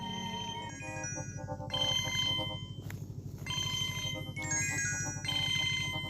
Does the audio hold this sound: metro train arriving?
no